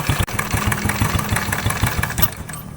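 Close, loud motorcycle carburetor engine idling in a steady pulsing rhythm while the carburetor air screw is tightened, with no voices heard.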